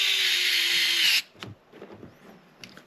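A power drill drives coarse-thread screws into an RC car kit, whirring steadily for about a second before stopping, followed by faint handling clicks and rustling.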